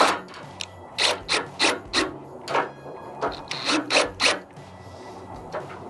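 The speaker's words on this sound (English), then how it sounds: "I'm going to screw it in." A drill drives a screw into a louver's screw boss during a pivot bar installation, giving about ten short ratcheting bursts in an even rhythm, close and fairly loud, with no talk.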